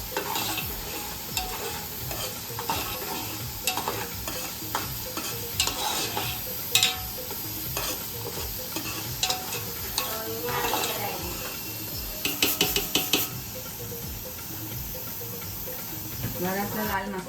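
Curry leaves sizzling in hot oil and being stirred in a large pot of Malvani chicken curry for fifteen people, a loud continuous hiss and crackle broken by repeated scraping and clanking of the spoon against the pot.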